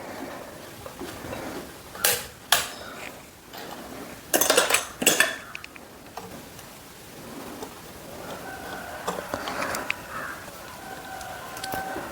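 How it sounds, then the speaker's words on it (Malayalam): Metal parts of a sewing machine, including presser foot pieces, are set into a container of kerosene, heard as several close clinks and rattles in short bursts over faint background noise, with no speech. "ഇതെല്ലാം നമുക്ക് മണ്ണെണ്ണയ്ക്കകത്തൊന്ന് ഇട്ട് വെക്കാം"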